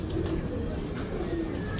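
A breeding pigeon coos softly a couple of times, close by, over a steady background hum.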